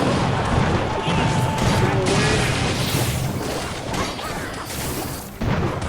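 Clash Royale battle with a Flying Machine attacking a Mortar, heard as a dense, loud wash of game impacts, crashes and booms running continuously without a break.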